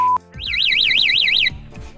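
A Kymco motorcycle's electronic siren-style alarm warbles rapidly up and down for about a second, loud and close, with a short beep before it and clicks around it.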